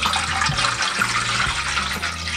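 Water poured into a wok to be brought to a boil, a continuous close splashing pour with gurgling, steady in loudness throughout.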